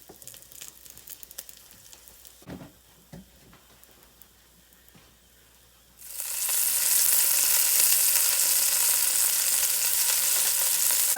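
Pot roast searing in hot olive oil on high heat, a loud steady sizzle that bursts in about halfway through and holds strong, after a few quiet clinks and ticks of the pan.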